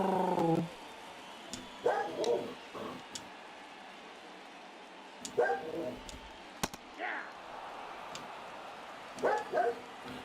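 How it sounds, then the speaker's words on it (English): A dog barking by itself in a bedroom in another room, heard as a few muffled, distant bark bursts spread through the stretch over a televised baseball game commentary and light background noise. "He's just back in the bedroom barking because he's by himself."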